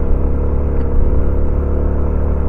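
A Honda XRM 125fi motorcycle, fitted with a 13/38 sprocket combination, climbs uphill with its engine revving high. Its steady, loud, low droning hum holds close and even, with no speech.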